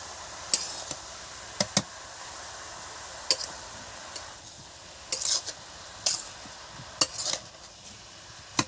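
A utensil scrapes and clinks against a pan while stirring Kashmiri cabbage ghonto, sharp scattered taps at an irregular pace over a faint low background.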